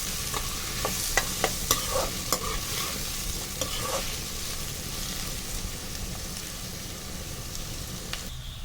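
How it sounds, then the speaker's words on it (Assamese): Finely chopped onions frying in a pan for chole, with a steady soft sizzle and several sharp scraping stirs of a spatula early on, close and moderately quiet. "এতিয়া পিঁয়াজখিনি ৰঙচুৱা হোৱালৈকে মই ভাজি ল'ম।"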